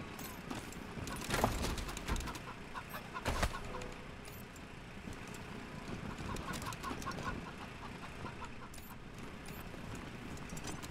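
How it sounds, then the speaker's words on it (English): Chickens in the Wasteland 3 video game cluck and squawk in short repeated bursts, fairly faint against a busy game soundscape, with a few sharper calls standing out. "I got the third chicken? What's up with the chickens?"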